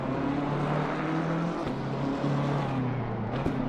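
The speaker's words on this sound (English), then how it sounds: "the M4 sounds phenomenal" BMW M4 GT3 race car in a sim racing game, a steady droning engine whose pitch holds, dips and climbs as it shifts and revs, heard close and continuous.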